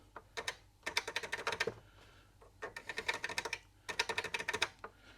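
Fingers type on a computer keyboard fitted with double-shot keycaps. Crisp keystrokes come close up in three quick bursts, separated by short pauses, in a quiet room.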